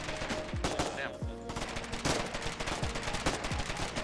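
Rapid bursts of machine-gun fire and scattered gunshots in a war video game, loud and continuous through the stretch, with faint voices underneath.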